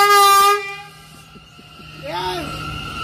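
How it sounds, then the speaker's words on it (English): A loud train horn blasts at a station, a sustained blaring chord that cuts off, followed by rumbling rail noise and a voice shouting. "blast that horn at me."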